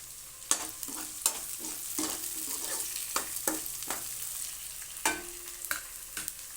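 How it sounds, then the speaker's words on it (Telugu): Chopped onions and green chillies frying in a pan make a close, steady sizzle, broken by repeated sharp scrapes of stirring. "ఇప్పుడు ఇందులో ఈ చిన్నగా కట్ చేసుకున్న ఉల్లిపాయ ముక్కలు వేసేసుకుందాము వీటిని కూడా బాగా వేపుకుందాము"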